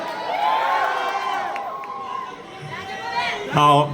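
A lively crowd cheers and whoops, voices rising together, ending with a loud burst of shouting.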